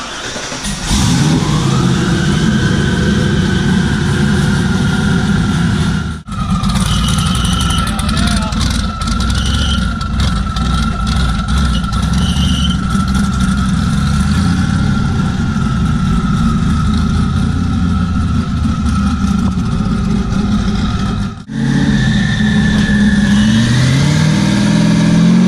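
A 1000+ hp car engine on a dyno roars at full load in long, sustained pulls, loud and close, dipping briefly twice between runs, with voices faintly underneath.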